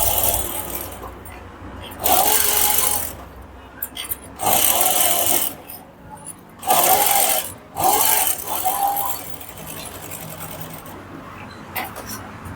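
A sewing machine stitches a kurti collar in several loud, fast-whirring bursts of a few seconds each, separated by quiet pauses while the fabric is repositioned.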